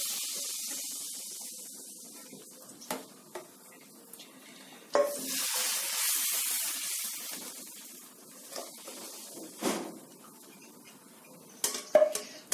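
Lentil soup boils in a pot on a home stove, giving a soft continuous bubbling hiss with scattered clinks and knocks of a utensil against the pot, fairly quiet and close, with no talk.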